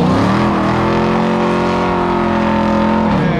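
A car performs a burnout at an SCCA autocross event in Fontana, its engine held at high revs in a loud, close, sustained drone that drops away at the end.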